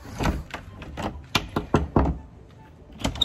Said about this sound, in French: Et là, on arrive à la porte qu'on ouvre.